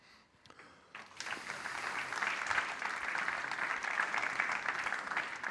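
Applause from an audience after a presentation at a Chamber of Trades and Crafts event swells from a few scattered claps into steady, moderately loud clapping that holds to the end.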